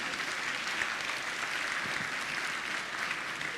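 Steady applause from a large audience at the opening plenary session of a conference, a dense, even wash of clapping held at a constant level throughout, with no voices standing out.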